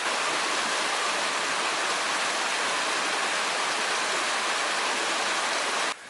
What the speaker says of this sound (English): Just further downstream, there's a waterfall.